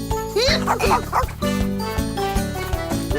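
A cartoon dog yips and barks a few times over loud, busy music, the barks short and bright amid the cartoonish score.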